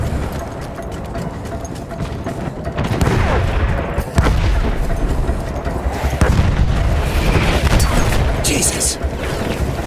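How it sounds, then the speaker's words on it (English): Artillery shelling of a village in the video game Battlefield 1, with rumbling booms and gunfire rolling continuously at a steady loudness under someone talking. "Artillery fire ordered to cover retreat to beach, shelling the village and outlying forts"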